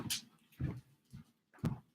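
A puppy just let in indoors gives several short whimpers and yelps in quick bursts, close by, with brief pauses between them and no talking over them.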